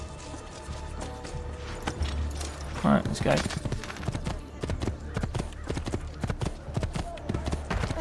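Horse hooves clip-clopping in Assassin's Creed II as a rider mounts up to head for a lighthouse, a rhythmic series of hoof strikes with a brief whinny, heard under a voice talking.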